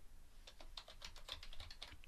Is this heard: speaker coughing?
no